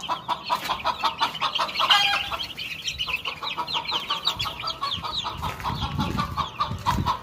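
Hens and chickens on a rural village farm cluck and call continuously, a mother hen fussing protectively near her chicks, with busy overlapping clucks close by and no talking.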